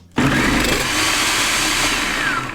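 A Hamilton Beach spiralizing food processor chopping onion starts abruptly and runs as a loud, steady motor whir with a rough, grinding edge, close and continuous, with no voices.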